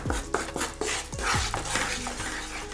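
A spatula stirs roasted water chestnut flour in a frying pan, repeated scraping strokes against the metal in an uneven rhythm with soft sizzle and rustle, close up and with no talking.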